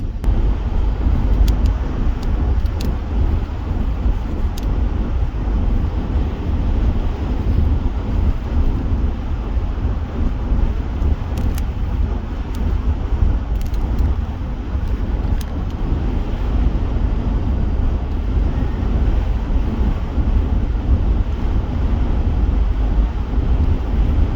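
Strong, steady wind roars and buffets the microphone without a break across the barren farmland of eastern Colorado, a loud, dense rumble that hides any other sound.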